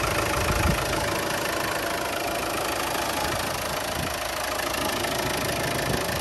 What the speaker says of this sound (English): But engine running nicely